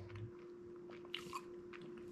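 Someone chews a chewy chocolate salty peanut protein bar with caramel. Faint, close, wet biting and mastication sounds come in a few soft bursts, with no talking.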